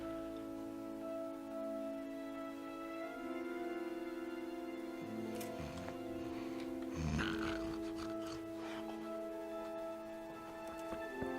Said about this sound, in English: Some weird ass snoring going on.